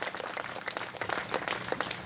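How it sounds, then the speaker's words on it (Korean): Faint, distant audience applause at a Korean peace prayer gathering, a steady patter of many hands clapping throughout the brief moment. "큰 박수 부탁드리겠습니다"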